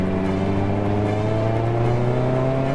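Engine of a supercharged BBR Mazda MX-5 pulling toward 6,000 RPM, a steady buzzing drone heard from inside the car whose pitch climbs slightly.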